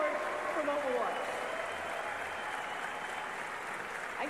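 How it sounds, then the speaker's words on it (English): An audience claps steadily after an Overwatch animated short is screened at a live event, forming a dense, continuous wash of applause with a faint voice briefly audible over it. "a big round of applause to the Overwatch development team here on stage"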